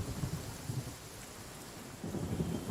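Heavy rain with rolling thunder in the video game Genshin Impact, a steady wash of downpour with low rumbling swells, moderately faint and without voices.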